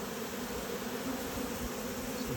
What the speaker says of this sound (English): I'm just disturbing these bees just a little bit around the outside edge